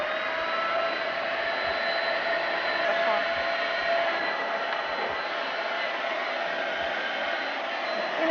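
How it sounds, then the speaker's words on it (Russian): A paint spray gun runs steadily as it sprays milk chocolate velour onto a cake, giving a continuous, even airy hiss with a faint whine at the same level throughout. "мы включаем краскопульт."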